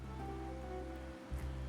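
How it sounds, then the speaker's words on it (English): Steady rain falls in the video game Wuthering Waves, a constant soft hiss of drops with a brief dip before resuming, heard alone. "But today's rain feels different."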